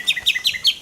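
A Chinese hwamei songbird chirps in four quick, bright bursts at an even pace, each a short descending trill, close and clear over a quiet background.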